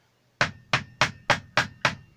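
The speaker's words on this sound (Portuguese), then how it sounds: "A não ser que eu dê umas marteladas nela aqui." Six sharp, evenly spaced hammer blows strike a metal part of a ceiling fan to seat it into place, each hit close and loud with a short ringing decay, following a brief quiet start.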